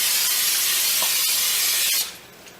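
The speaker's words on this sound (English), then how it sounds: "so I'm going to spray it first" Cooking spray hisses steadily onto a baking pan for about two seconds, a loud, close, continuous aerosol spray that then cuts off, leaving a faint hiss.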